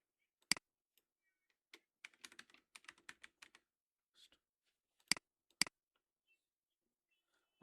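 Light keystrokes on a computer keyboard typing a short message, coming in scattered quick bursts with pauses and a few louder key presses, quiet and close.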